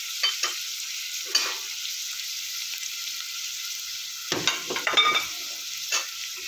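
Dry-roasted masala spices stirring in a pan for mutton sukka, a steady close sizzle broken by scraping strokes and clustered rattling, with no talking.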